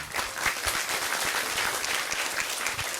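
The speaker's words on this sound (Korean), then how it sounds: "박수 부탁드리겠습니다" An audience claps for a university student introduced at a climate and environment leadership talk concert, a steady wash of applause from a sizeable crowd lasting about three seconds without a break.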